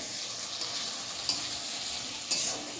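Pointed gourd (potol) frying in a pan, a continuous bright hiss of hot oil with a couple of brief louder crackles, close by and without voices.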